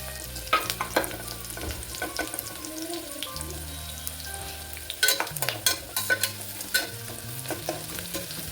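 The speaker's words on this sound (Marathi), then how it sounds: "पूर्ण नाही कांदा मी परतून घेतलेला आणि त्यानंतर मी मसाले टाकले थोडं कांदा परतायचं बाकी आहे" Onions with added spices are sautéed in a pan, with a low frying sizzle under repeated scraping, clinking stirs and scattered knocks of the spoon against the pan.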